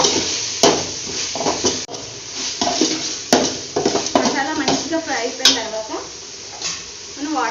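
Onions fry in oil in a pot for chicken biryani. A sizzle runs under frequent spoon clatter and scraping against the metal, with a few sharp knocks, and a voice is faintly heard at times.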